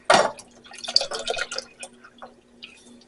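Milk is poured from a measuring cup into a cooking pan, starting with a loud splashy burst and then tapering into a softer trickle and drips nearby.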